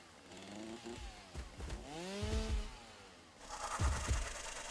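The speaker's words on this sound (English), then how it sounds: "If you go to the chainsaw here, and you rev it up" A chainsaw in the video game Satisfactory revs up repeatedly, its buzzing engine pitch rising and falling in loud, close surges.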